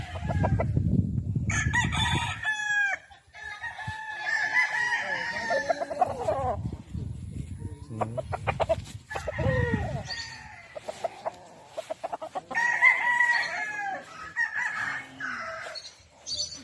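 Roosters crow repeatedly on a chicken farm in Ilocos, several long cock-a-doodle-doo calls overlapping, with clucking hens and other fowl in between, fairly close and loud.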